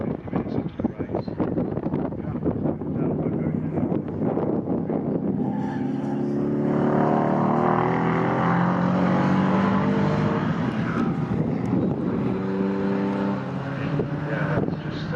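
A GT race car sweeps past trackside at Silverstone, its engine note rising and falling in a long doppler pass over steady wind noise, loud and close through the middle before fading out.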